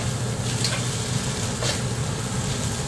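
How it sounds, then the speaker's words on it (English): Noodles are tossed with curry in a hot pan, giving a steady, dense sizzle and frying hiss throughout. A couple of faint scraping or stirring accents rise above it, with no talking. "Just tossing it around before we add everything else back to the pan."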